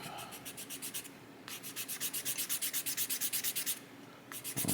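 A small plastic part of a 1/350 scale USS Missouri battleship model being smoothed with 400-grit sandpaper, heard as quick, even back-and-forth rasping strokes in close, steady bursts with short pauses between them.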